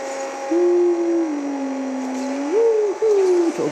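An Audi S4 engine in an Asphalt 8 multiplayer race drones as a steady, close tone that holds level, then rises and dips in pitch in quick shifts, with no talking.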